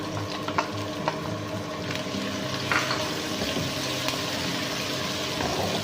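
Onions that have turned light brown fry in oil while ginger garlic paste is added for a palak and mooli dish. Close, steady sizzling goes on throughout, with a few soft stirring knocks and nobody speaking.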